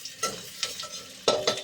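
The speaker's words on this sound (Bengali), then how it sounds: "একটু ভাজা ভাজা হয়ে যাক" Chopped garlic goes into hot oil with a little turmeric. Quick scraping stirs with a soft sizzle come in a few close bursts, and no one speaks.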